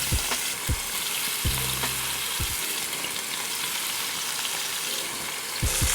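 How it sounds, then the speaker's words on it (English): Steak is seared in a hot skillet, cooked in batches without overcrowding, giving a loud, continuous close-up sizzle and crackle with a few sharp thuds and pops from handling, and no talking. "Since we got a lot of steak, we're gonna cook the steak in batches."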